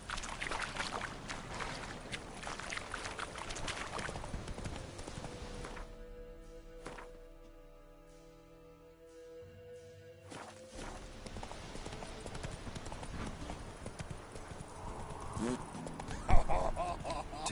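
Horse hooves in The Witcher 3 video game, rhythmic clip-clop of a galloping mount under game music and ambience, dropping away briefly mid-stretch before resuming, with a short whinny-like burst near the end.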